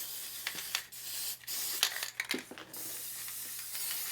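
Short hissing bursts from a spray paint can, several separate sprays of varying length with pauses between them, close and fairly quiet, with no talk.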